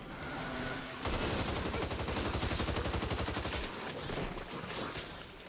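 Sustained rapid automatic gunfire from the Back 4 Blood zombie shooter, a dense rattling burst running for several seconds at close range, with no talk over it.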